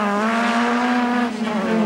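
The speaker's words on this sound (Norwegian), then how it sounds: "Er det Steinar Gjøranli som kjører seg litt inn på Roger Sandberg" Rallycross race cars compete in the 1989 Norwegian championship final, their engines loud and close in a sustained high-revving roar with shifting pitch and a brief dip midway.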